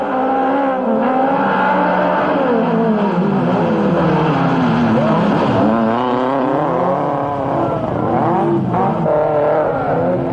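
Rallycross race cars roaring off the start line at a 1994 French championship round, several engines revving hard and rising in pitch together, loud and close for the whole stretch with no one talking.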